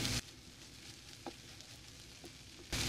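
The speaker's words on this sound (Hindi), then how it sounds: "एक मिनट हम इसको अच्छे तरीके से ये भून लेंगे ताकि ये सारा मसाला इसमें अच्छे तरीके से जज़ब हो जाए।" Masala filling for potli samosa sizzles quietly in a pan, a soft steady frying hiss with a few faint stirring taps.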